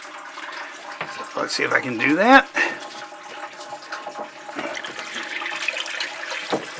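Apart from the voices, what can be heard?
water draining from sailboat water tank into bilge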